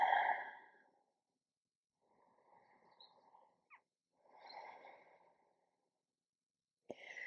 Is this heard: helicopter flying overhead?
no